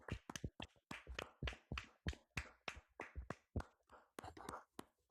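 Two podcast hosts clapping, a quick run of close sharp hand claps with uneven rhythm, continuing for about five seconds.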